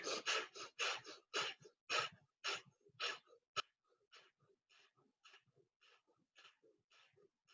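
Rapid rhythmic breath of fire during a Kundalini yoga session, a quick run of forceful nasal exhalations, close and clear, starting strong and regular then continuing softer and lighter.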